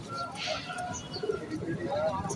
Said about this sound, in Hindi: ये दोस्तों सलारे कबूतर है,